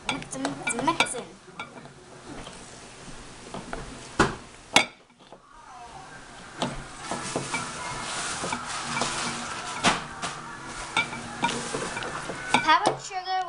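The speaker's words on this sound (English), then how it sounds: "Let's stir it. It should look like the consistency of Play-Doh" A spoon stirs a thick peanut butter mixture for homemade peanut butter cups in a bowl, making irregular scraping and clinking sounds close by, with a few sharper knocks against the dish.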